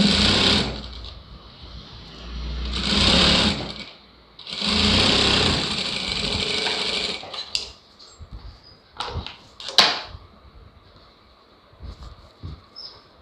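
A sewing machine stitches a blouse lining in three steady whirring runs, close and fairly loud, followed by scattered clicks and handling knocks as the fabric is adjusted.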